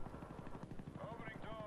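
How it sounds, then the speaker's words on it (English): A Call of Duty: Black Ops chopper gunner helicopter beats with a steady rotor thump, mixed with rapid gunfire bursts and a voice speaking underneath. "call on this chopper gunner"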